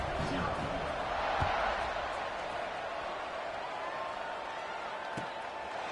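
Dense football stadium crowd at a Cal versus Boston game roars steadily after a touchdown drive, a broad continuous wash of cheering and chatter that swells slightly early on, with faint thumps underneath.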